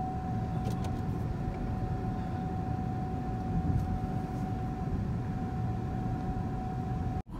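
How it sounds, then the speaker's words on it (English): A Buick Rendezvous climbing a mountain road in British Columbia, its engine having overheated on the climb. A steady, unbroken drone of engine and road noise runs throughout, then stops abruptly at the end. "climbing up a mountain with the Buick Rendezvous"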